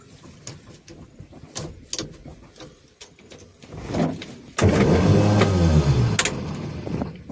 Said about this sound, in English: that's the starter, not happy